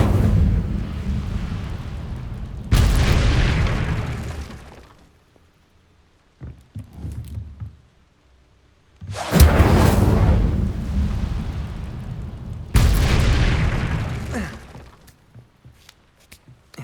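Fire spells cast in Hogwarts Legacy during a fight with a giant spider, three loud roaring bursts of flame separated by quieter gaps, each flaring sharply and then fading, close and with no talking.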